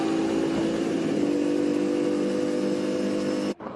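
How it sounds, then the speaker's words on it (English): A race car at Sydney Motorsport Park accelerates down the main straight with a steady, loud engine drone and whine held throughout, cutting off abruptly near the end. "Listen to it accelerate down the main straight here."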